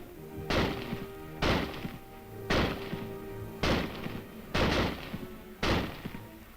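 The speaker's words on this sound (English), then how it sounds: "Simply insert another clip of 8 rounds and commence firing." Six evenly spaced shots from a rifle fed by an 8-round clip boom out roughly once a second, each a heavy close report with a brief decaying tail.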